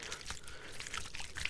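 Water pours and trickles from small ASMR water trigger toys, a steady close-up liquid splashing with bright droplet plinks throughout, no voices.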